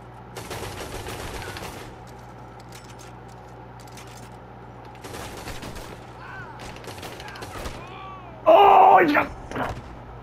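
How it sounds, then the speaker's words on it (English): Gunfire from the Red Dead Online video game: bursts of shots come in clusters over steady game ambience, with a loud, brief impact near the end amid faint background talk. "Dude just shot me off of the railing."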